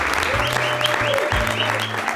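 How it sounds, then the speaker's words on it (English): Steady, loud applause from a camp crowd honoring an organizer fills the moment, dense clapping with a low droning hum or tone running beneath it. "the only person we need to give a round of applause to is Sarah"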